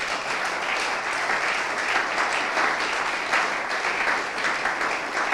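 A church congregation bursts into sustained applause during a Saturday worship service, a dense, steady wash of many hands clapping at close range with no pauses, lasting several seconds.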